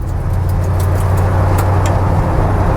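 Ford F100 truck on extra-wide wheels and tires rolling along, a steady low engine drone with a humming tone and road noise, close and continuous, with no talk.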